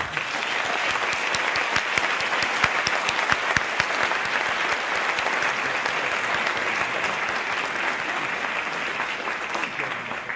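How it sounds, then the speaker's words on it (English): An audience at a school graduation ceremony gives a sustained round of applause, a loud, continuous crowd of clapping hands that stays level for ten seconds. "Can we give them a round of applause?"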